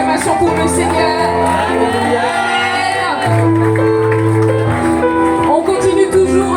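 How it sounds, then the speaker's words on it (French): A church congregation at a baptism ceremony cheering and acclaiming, loud shouts, whoops and sustained crowd voices over a continuous musical backing, dense and close throughout. "acclamation pour le Seigneur"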